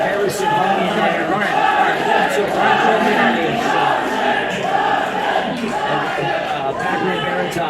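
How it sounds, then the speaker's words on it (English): Boxing crowd buzzing after a pro bout, a continuous loud murmur of many voices and shouts, with a commentator talking over it throughout. "PACMAN Baratov has got this crowd buzzing"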